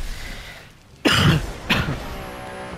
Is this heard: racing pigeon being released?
no